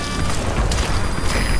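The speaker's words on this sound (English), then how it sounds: "did you see that explosion?" Broad, loud rumbling blast from a vehicle explosion in Metal Gear Solid 5, a dense roar with wind-like noise carrying through the whole short moment, no talk over it.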